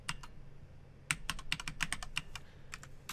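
Typing on a computer keyboard while writing Python code: a quick run of crisp, close key clicks in short bursts after a brief pause, with no talk.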